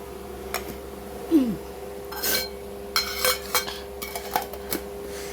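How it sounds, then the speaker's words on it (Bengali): A tiffin container packed with rice, boiled egg and fried vegetables is closed up in a home kitchen: several sharp clinks and clatters of the lid and container, separated by short pauses. "তো চলো কৌটো আটকে দিচ্ছি"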